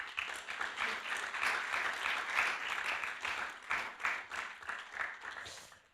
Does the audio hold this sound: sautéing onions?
no